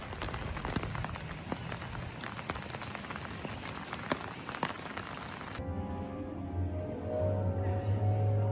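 Steady rain patters down at St. Patrick's in Ireland around sunset, a dense close hiss for most of the stretch before it abruptly gives way to a quieter, lower rumble near the end.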